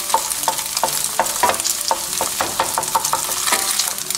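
Cauliflower rice being scrambled and chopped with a spatula in hot bacon grease for keto bacon fried rice, a steady sizzle broken by repeated sharp scraping strokes, close and fairly loud, with no voices.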